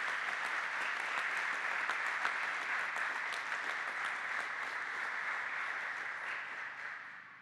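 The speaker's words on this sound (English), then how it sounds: "if we can give everyone a big round of applause for that, for getting us here so far." Sustained audience applause at a fire academy graduation ceremony, a dense steady wash of many hands clapping that holds for several seconds and tapers slightly at the end, with no talk over it.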